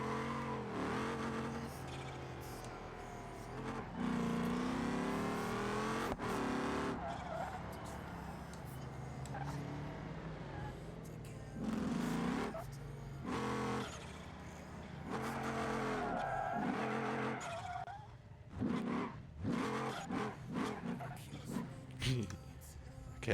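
Engine of a heavily modified, turbocharged car in a video game revving and accelerating in repeated surges, with tire squeal, under a streamer talking at length.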